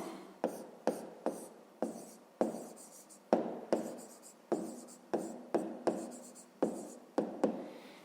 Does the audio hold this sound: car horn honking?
no